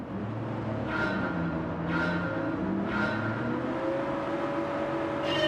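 Race cars launch from the start at Fuji in Gran Turismo 7. Engines rev hard through repeated upshifts, each roughly a second apart, with rising whines that keep climbing as the pack pulls away.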